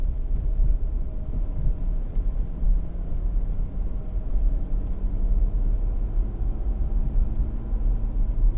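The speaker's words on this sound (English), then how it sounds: "lots of low end torque from the diesel engine" A 2013 Porsche Cayenne 3.0 diesel engine gives a steady, deep rumble at low revs pulling uphill, smooth and continuous, with a faint hum of road and wind noise around it.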